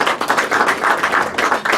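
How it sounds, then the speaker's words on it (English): Applause at a dinner at the House of Lords, with a room of hands clapping in quick, fairly even bursts at moderate loudness for a couple of seconds. "A round of applause to Georgia."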